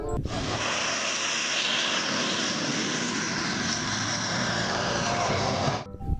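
Toy fighter jet engine sound effect, a steady loud roaring jet-and-propeller drone held at a constant level for about six seconds before cutting off abruptly.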